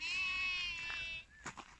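A single drawn-out bleat from a Sarıbaş sheep rings out close by, wavering in pitch, followed by faint shuffling.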